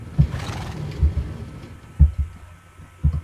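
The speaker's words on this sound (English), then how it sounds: "Hey, Jeb's my horse" A Minecraft horse neighs in the video game, with short low thumps repeating every second or so over a faint background.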